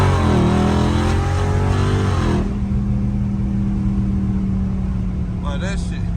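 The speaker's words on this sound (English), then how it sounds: "just listen to the second gear downshift" A catless Dodge Charger Scat Pack engine drops into second gear, a loud close rumble with a falling burble of pops followed by a steady low drone; people talk over it.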